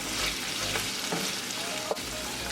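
Taco meat, seasoned with black pepper, cumin and bouillon, sizzles in its own oil in a pan while being stirred, a close, steady crackling fry with a few soft scrapes and no voices.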